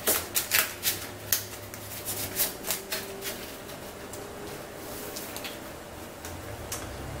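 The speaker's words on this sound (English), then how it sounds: "Give it a quick shuffle." A deck of Yu-Gi-Oh! trading cards gets a quick hand shuffle, heard as rapid light clicking and flicking at the start that settles into a softer, steady rustle over low background hum.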